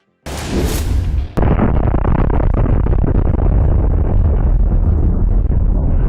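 A sharp blast is followed by a sustained, roaring rumble of explosions and burning, loud and continuous for several seconds, as a missile launcher burns after a strike at Cape Tarkhankut in Crimea.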